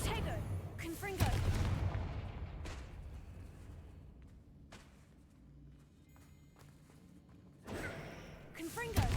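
Confringo blasting spells cast in Hogwarts Legacy burst out as loud booming thuds at the start and again near the end, separated by a quieter stretch with faint footsteps and a voice speaking.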